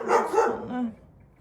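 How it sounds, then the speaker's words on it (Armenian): Dogs bark in a short outburst near a yard, two or three loud yaps in quick succession that trail into a fainter whine. "շներս պատրաստ, ստարտի կանգնած են, հաչան"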